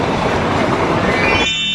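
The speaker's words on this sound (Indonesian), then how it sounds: "Kereta Thomas paling cepat." A Thomas toy steam train runs with a loud, close rattling rumble that cuts off abruptly near the end, leaving only a faint hum.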